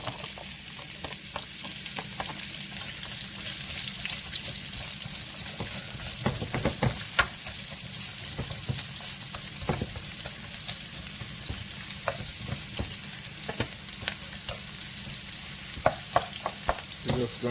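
Cut carrots sizzle steadily in a pan with chicken and shrimp for a stir fry, a dense, constant frying hiss broken by occasional crackles and pops.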